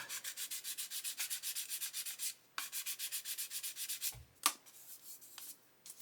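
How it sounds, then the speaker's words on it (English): Rhythmic back-and-forth sanding strokes rasp steadily on a small hard plastic model kit part, briefly pausing twice, with a light knock near the end. "So I'm just going to keep sanding that."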